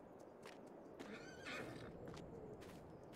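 A horse in the farming game Farming Simulator 22 gives a clear whinny at close range, with soft hoof clops around it against a steady outdoor background.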